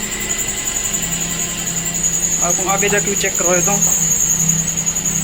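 A car's front fan belt squeals after the air conditioning is switched on, a steady high-pitched whine running continuously under the engine hum while someone talks nearby.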